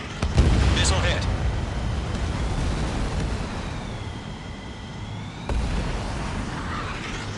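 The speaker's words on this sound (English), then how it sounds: "Missile hit." Missile strike explosion in the jet combat game Ace Combat 7: Skies Unknown, a loud burst up front that settles into a steady roar of engine and battle noise, with a second surge of rumble late on.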